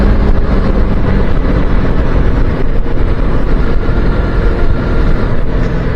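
Suzuki 250cc motorcycle ridden on UK roads with a 14-tooth sprocket, heard as a steady engine drone buried under loud, continuous wind buffeting on the microphone throughout.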